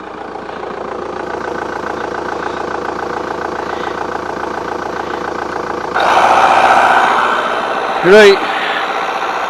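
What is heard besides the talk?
VW Golf GT TDI diesel engine running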